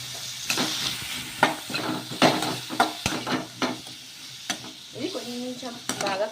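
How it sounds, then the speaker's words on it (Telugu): Fresh coconut pieces fry in ghee over a medium flame in a pan, with a steady sizzle broken by repeated clinks and scrapes of a spoon stirring against the metal, close and fairly quiet. "మీడియం ఫ్లేమ్లో కొంచెం నెయ్యిలో వేయించేసుకోవాలి ఈ పచ్చి కొబ్బరిని."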